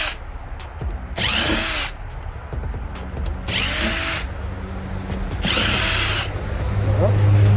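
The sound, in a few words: power drill unscrewing screws from an air conditioner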